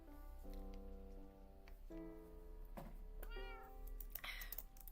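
A house cat meows three times in a row, each call long and drawn out and close by, with short pauses between them against a quiet, faintly noisy room and no talking.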